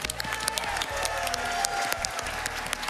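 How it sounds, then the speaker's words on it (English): An audience at the AGDQ 2020 speedrun marathon claps together in a dense, steady round of applause, with a few faint cheers mixed in. "Let's give Qtt another round of applause."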